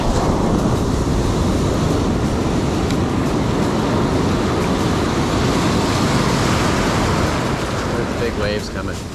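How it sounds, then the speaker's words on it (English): Ocean surf pounds in a loud, continuous roar of breaking waves during a surfing session, heavily mixed with wind buffeting the microphone, easing slightly at the end. "There's big waves coming."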